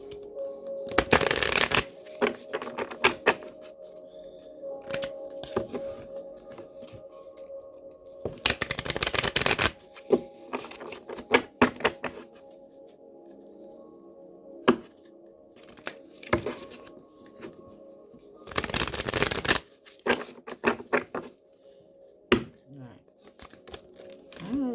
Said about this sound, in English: Let me shuffle because they kind of stuck.